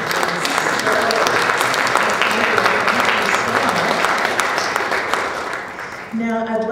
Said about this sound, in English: can we have a round of applause for the presentation?